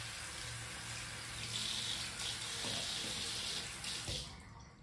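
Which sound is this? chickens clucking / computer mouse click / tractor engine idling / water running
water running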